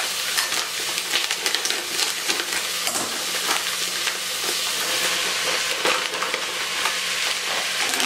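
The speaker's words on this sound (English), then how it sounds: "this is actually going to cook on the stove for about 45 minutes to an hour" Peas and snaps cooking in a pan on a stovetop, a continuous bright sizzle with scattered crackles and occasional stirring scrapes, steady and close for several seconds, no voices.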